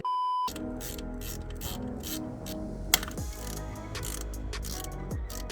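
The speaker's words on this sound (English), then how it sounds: "we're gonna take off these bolts here, which are 10 millimeters." A small socket ratchet loosens the 10mm bolts on the fuel rail of a BMW E36, giving a few clicking, ratcheting bursts close by over a steady background hum, with no talk.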